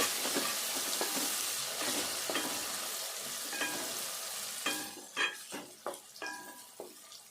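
Goat tripe curry cooking in a pan, with a soft steady sizzle under a few sharp scraping, clattering strokes of a spoon toward the end, close by and with no voices.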